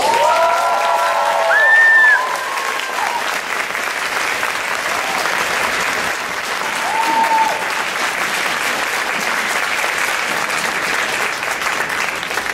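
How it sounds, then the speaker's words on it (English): A crowd at a high school marching band and color guard home show gives a sustained round of applause mixed with cheering and a few whistles, steady and full from start to finish. "How about another round of applause?"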